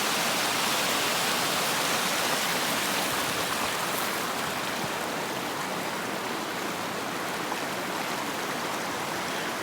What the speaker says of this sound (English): A little closer view of the waterfall here.